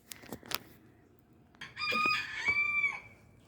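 A young rooster crows once in the morning with a long, strained call, preceded by a few short clucks and scratchy noises close by.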